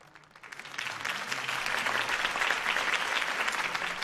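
Applause from a crowd at a campaign speech in Batman: The Telltale Series swells in quickly from quiet and holds as a loud, continuous wash of clapping.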